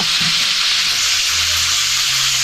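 Hot cooking oil for fried chicken bubbles and sizzles steadily in a pan, a continuous close hiss with faint low clatter underneath and no voices.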